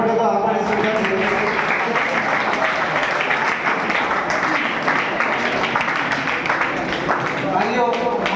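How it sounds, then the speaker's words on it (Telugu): Audience applause welcomes the chief guest at a college program on GST savings in Kurnool, with sustained dense clapping from a large crowd while a voice speaks over it. "ముఖ్య అతిథిగా మన కార్యక్రమ ప్రిన్సిపాల్ గారు డాక్టర్ ఎస్ నాగస్వామి నాయక్ గారిని చప్పట్లతో ఆహ్వానిస్తున్నారు"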